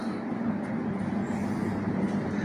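A local train stands at a single-line station near Belur, its steady low rumble and hum filling the space continuously at moderate loudness, with no voices.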